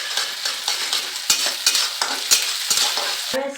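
Onion, ginger and garlic paste sizzling in hot oil while being stirred, with steady frying hiss and several sharp scraping strokes of a utensil against the pan, close and alone.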